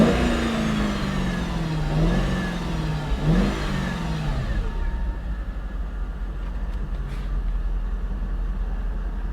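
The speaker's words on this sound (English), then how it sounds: "Let's listen to the exhaust." The exhaust of a 2018 Ford Mustang Shelby GT350 revs nearby: a loud engine rumble rises and falls through a couple of blips, then settles into a steady idle drone.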